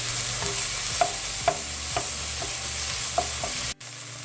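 Halibut being stir-fried for red curry in a hot pan, a loud continuous sizzle broken by regular scraping strokes of a spatula about every half second, then a brief cut.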